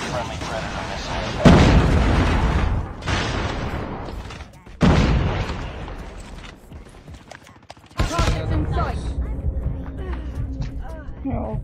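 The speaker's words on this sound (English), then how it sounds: "Friendly predator missile." Predator missile strikes in Call of Duty Mobile during a Hardpoint match: three heavy, booming blasts land a few seconds apart, each decaying into a rumbling tail amid background game noise.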